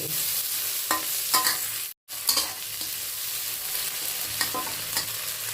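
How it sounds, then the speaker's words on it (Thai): A spatula stirs Thai tom yum fried rice with shrimp and tom yum paste in a hot pan, scraping and clinking in irregular strokes over a steady sizzle, with a brief silent break midway. "คลุกเคล้าค่ะเข้ากันเลย"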